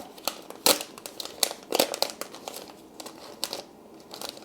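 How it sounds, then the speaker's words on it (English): Leftover magnet sheet material is tucked back into its original packaging, producing irregular crinkling and rustling bursts of plastic or paper, close and fairly quiet. "I'm gonna put this excess back into the original packaging that it came with"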